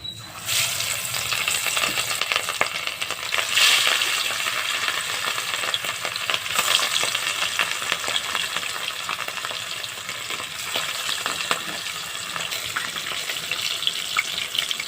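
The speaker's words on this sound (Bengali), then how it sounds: "কাতলা মাছটা ভেজে নিচ্ছি" Pieces of katla fish fry in hot oil in a home kitchen, giving a steady, close sizzle with bright spatter and a few louder crackles, and no one speaks.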